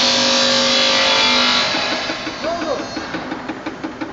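A car tire being spun up during a puncture test, with a steady mechanical whir that drops away midway into a rhythmic, repeating rotational thumping as it slows, and voices talking over it.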